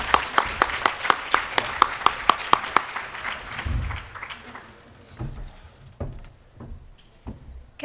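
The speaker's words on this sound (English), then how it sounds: "Can we give the DA another round of applause for those incredibly on-point remarks?" After a keynote speech at a prison summit, an audience claps in a run of sharp, evenly spaced claps that thin out into scattered slaps and room noise.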